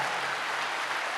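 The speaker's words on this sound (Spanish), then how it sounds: "Dar un aplauso para yo convencerme de que es así." A church congregation claps during a sermon, producing a brief burst of dense, even applause at moderate distance.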